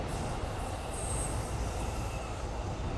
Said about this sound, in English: this blue train, which I believe is the Keihin Tohoku line